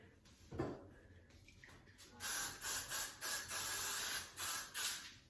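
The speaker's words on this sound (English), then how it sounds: "I'm gonna go back in with some freeze spray" Freeze hairspray is sprayed onto slicked-back hair while a bun is styled, coming as a run of about seven short, close hissing bursts in quick rhythm after a quieter opening.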